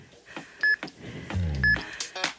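Workout interval timer giving two short, sharp electronic beeps about a second apart amid gym background sounds.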